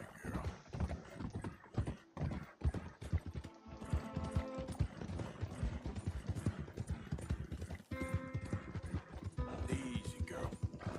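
Horse hooves clip-clop steadily with a whinny in the Red Dead Redemption 2 game, close and continuous over background game sounds.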